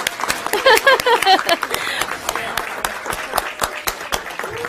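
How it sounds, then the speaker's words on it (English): An audience at a recognition meeting applauding, a dense, moderately loud patter of many hands with some sharp individual claps and a few shouted cheers near the start. "Let's go ahead and clap."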